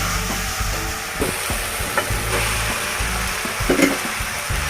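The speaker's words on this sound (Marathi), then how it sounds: "आता मिक्स करून घेऊया" Fried rice being stirred in a hot pan, a steady sizzle broken by repeated scraping and tossing knocks at an uneven rhythm, close and moderately loud with no talking.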